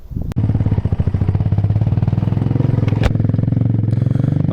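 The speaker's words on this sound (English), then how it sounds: "we're on the Honda FTR223, and as you can hear, she has a great sound to her" Honda FTR223 single-cylinder motorcycle with a large aftermarket air filter, ridden with a loud, close, steady thumping engine note and a rapid even pulse.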